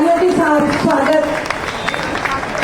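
Loud applause rises from the crowd at the inauguration of a new block at Lajpat Nagar Colony Hospital in Delhi, steady clapping heard close and continuous while an announcer speaks over it.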